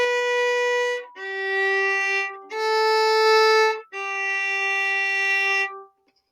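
Bowed bass playing the fourth line of Happy Birthday, four long sustained notes, each held about a second with brief gaps, clear and close with no talking.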